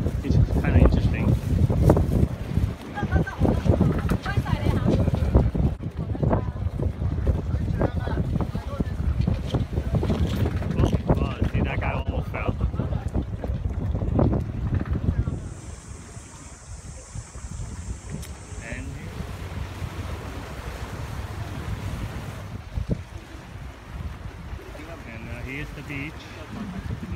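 A junk boat cruises on the water in Hong Kong, with heavy wind buffeting the microphone and a rumbling motor and splashing under it, loud at first and then calmer and quieter.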